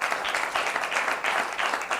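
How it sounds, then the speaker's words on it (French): Brief, moderately loud applause from an audience at a French-language spelling contest show, honoring the black team, with a dense pulsing clatter of clapping and no voices. "Je demande qu'on applaudisse pour eux."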